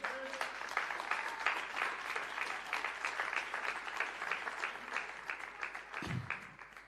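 Church congregation applauding steadily during a sermon, a dense sustained clapping wash of many hands at moderate distance, fading slightly near the end.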